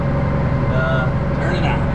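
Tractor engine revving under throttle while baling big square bales, a loud, steady low mechanical drone with a slight rise in pitch as the revs climb, running continuously.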